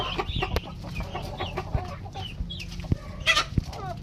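Native chickens and hens cluck close by on a farm. Short, irregular clucks and calls overlap from several birds, with no talking.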